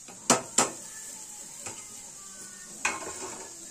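A spoon stirs salt, turmeric, chili and cumin powder into vegetarian pasta in a pan, with a few sharp clinks against the metal and soft scraping between them, close and fairly loud.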